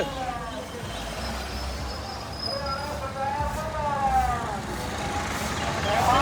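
Dense engine rumble and droning horns of many tractors moving together in a farmers' protest march, steady and loud throughout, with tonal horn-like wavering over the roar.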